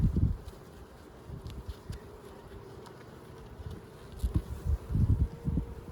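Honey bees buzz steadily around an open hive during a swarm hive inspection, a close low drone with rustling and brief bursts of louder buzzing near the microphone.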